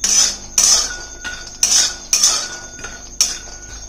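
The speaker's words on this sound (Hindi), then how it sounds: "और इधर मैंने कढ़ाई भी चढ़ा दी है, इसमें बादाम को भूंजेंगे पहले।" Almonds being dry-roasted in a kadai, stirred with a metal spoon that gives several loud, ringing clinks and scrapes against the pan in irregular bursts, close up, with no talking and no clear sizzle.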